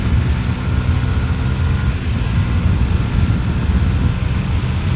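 A small Honda CB125R motorcycle is ridden through curves, its engine a steady, dense rumble mixed with constant wind roar and no clear rise in pitch.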